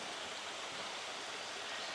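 A rainforest waterfall pours in a steady, dense broadband rush, constant and fairly close, with no other sounds.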